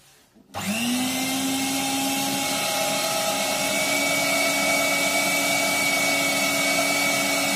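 A Twinzee electric meat grinder switches on after a brief quiet moment and then runs at a steady, loud whine while mincing meat for merguez sausages, its motor hum constant with no talking.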